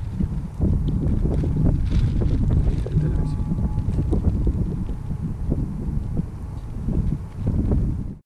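Gusty outdoor wind buffets the microphone in low rumbling bursts, loud and close, with someone talking through it.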